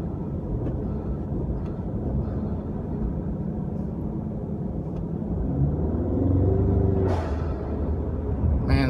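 A turbocharged Ecoboost Mustang engine rumbles steadily up close, building in pitch toward the end, where a sharp whooshing blow-off valve release briefly cuts through.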